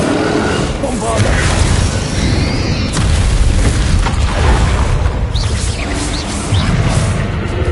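Bombarda explosion spells in Hogwarts Legacy combat: heavy booming bursts and crashes repeat over busy game noise, mixed with spoken voices.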